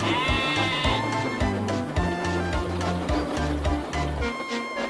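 Several sheep bleat in quick succession, wavering calls close by over a soft background.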